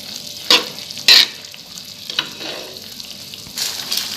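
Tempeh simmering and sizzling in a pan with a little water, with a steady soft bubbling hiss broken by a few sharp stirring scrapes nearby, and no talking.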